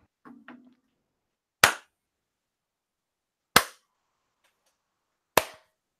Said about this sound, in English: Just give me a clap.